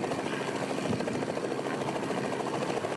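A police helicopter flies low over a rural search area, its rotor giving a steady, loud, continuous chopping drone with no break for the whole stretch.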